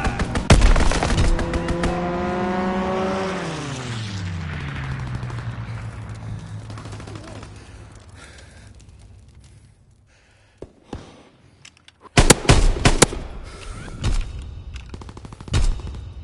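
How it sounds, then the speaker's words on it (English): A fighter plane makes a strafing run in the WW2 shooter game: a loud burst of gunfire as the engine whines past with a falling pitch, fading out, then a second sharp volley of shots near the end. "Fighter pilot inbound,"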